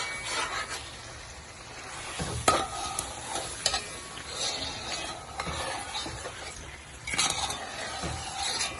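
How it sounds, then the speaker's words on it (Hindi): Mutton trotters being stirred into spice masala in a pan, a steady close sizzle and fry with scraping spoon strokes and occasional louder clatters, no voices. "तो अच्छी तरह से हम मसाले में ऐसे मिक्स करें।"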